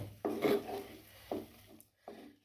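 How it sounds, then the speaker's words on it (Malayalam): Ground coconut being sautéed in a pan on low heat, heard as three separate scraping strokes of a spatula against the pan, close and fairly quiet with short pauses between them. "ഇനി നല്ലതുപോലെ ഒന്ന് വഴറ്റിയെടുക്കണം തേങ്ങയുടെ പച്ചമണമൊക്കെ ഒന്ന് മാറുന്ന വരെ നമുക്ക് നല്ലതുപോലെ വഴറ്റി കൊടുക്കണം"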